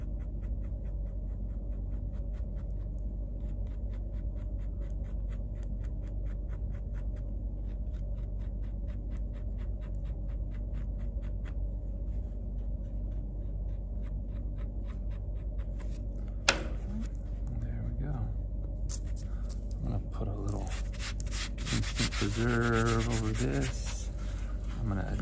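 A blade scrapes tissue from a squirrel hide during fleshing for a taxidermy mount. It gives a steady, close, rhythmic rasping that grows louder and busier with handling noise toward the end.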